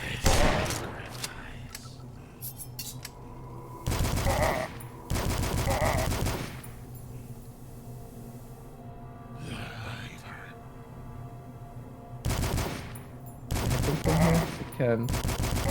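Super shotgun blasts from the retro shooter Dusk go off as heavy, loud, close booms, several spaced apart with a quick cluster near the end, between stretches of quieter game ambience and someone talking.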